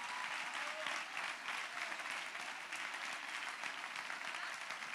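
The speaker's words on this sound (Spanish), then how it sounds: "Y a Sandra, un fuerte aplauso," A televised audience applauds dancers and a young singer named Sandra, a steady, even roar of many hands clapping throughout, heard from a slight distance without pauses.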